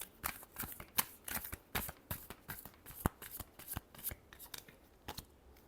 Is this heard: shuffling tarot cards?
yes